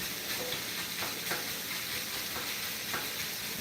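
An onion sizzles in a frying pan, a steady crackling fry with occasional stirring scrapes, close and continuous with no talking.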